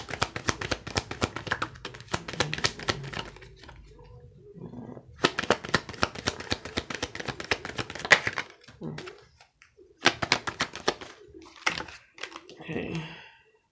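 Tarot cards are shuffled and laid out in quick papery riffling bursts at close range, broken by pauses, while a person talks at intervals.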